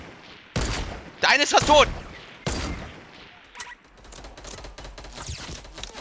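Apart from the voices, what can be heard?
automatic gunfire in a video game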